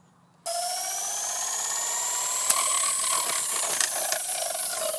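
A homemade helicopter driven by a compressed-air bottle spins its turbine as air hisses out. The hiss is sharp and continuous, joined by a rising whine, with a few faint ticks and rattles partway through.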